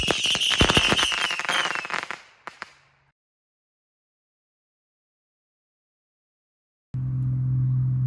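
A 100-shot Saturn missile battery fires in a dense burst of rapid whistling cracks lasting about two seconds, tapering to a few final pops, then silence before a low outdoor rumble resumes.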